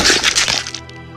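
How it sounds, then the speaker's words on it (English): An axe crashes down with a loud, close cracking and splintering burst that breaks up into a few smaller crackles and then falls quiet; no voices. "I raised the axe above my head and brought it crashing down"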